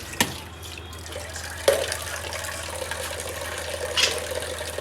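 Water being poured for lassi in a home kitchen, a soft continuous trickle with a couple of sharp knocks and a brief clink, close and fairly quiet.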